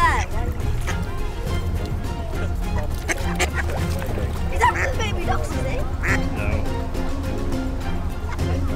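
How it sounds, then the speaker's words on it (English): Ducks quack steadily around a kayak on a lake at Center Parcs Longleat Forest in the UK, fairly close and mixed with water and paddling noise, while people talk over them. "The ducks are following us."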